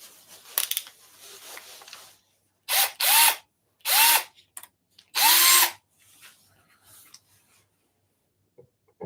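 A power drill fires in four or five short bursts. Each burst revs up sharply to a high whine, then stops, with quiet gaps and faint handling clicks between them.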